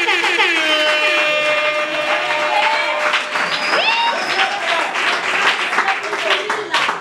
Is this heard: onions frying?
no